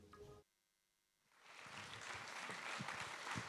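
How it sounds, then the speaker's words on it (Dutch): Audience applause at an evening college event breaks out after a short silence, building into steady, fairly close clapping that continues to the end. "Ja, natuurlijk een applaus voor onze huisrobot, Richard de Robot."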